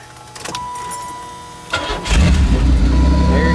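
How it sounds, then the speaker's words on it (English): A Regal 2.0 car engine is started after the fuel pump is switched on, with a starter whir followed by the motor catching and settling into a loud, rough idle close by, with no talking. "we'll go ahead and fire it up actually right now"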